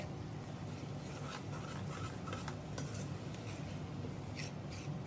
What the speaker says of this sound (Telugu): మంచిగా మనము విస్కర్ తో మిక్స్ చేసుకోవాలి